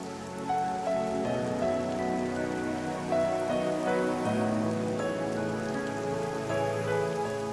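Rain pours steadily in an outdoor film scene, a constant dense patter of drops mixed with soft sustained music tones, with no voices.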